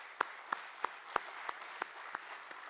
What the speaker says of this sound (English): both of them actually deserve a round of applause